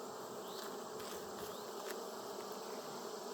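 Honey bees swarming around an open hive frame with brood and nectar, a dense continuous buzzing drone, faint and even, with individual bees passing close now and then.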